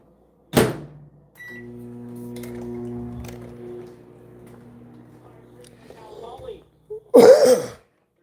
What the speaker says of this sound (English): Put this in the microwave for 2 minutes.